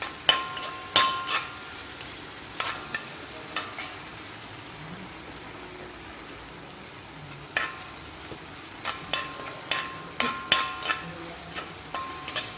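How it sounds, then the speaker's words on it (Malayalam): Chicken noodle ingredients are stirred in a pan with a utensil, giving quiet, scattered scraping clicks that cluster into bursts over a faint, low sizzle. "ഇത് നല്ലോണം ഇളക്കി കൊടുക്കാം"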